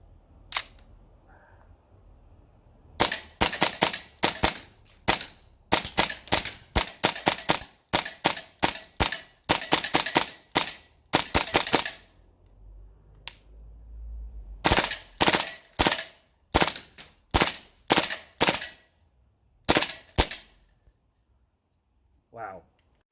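A G&G SMC-9 gas blowback airsoft PDW/SMG fires in loud, close volleys of rapid sharp clacking shots, grouped into short bursts with brief pauses and a few single shots. No talking is heard.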